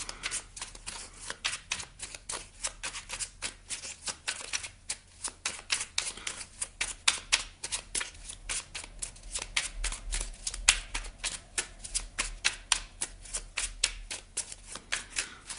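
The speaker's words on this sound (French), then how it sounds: "On va aller chercher une petite carte là de l'oracle, le petit oracle de Merlin." Merlin oracle cards riffled and shuffled continuously for about fifteen seconds, a dense run of crisp close-up flicks and snaps with no talking over them.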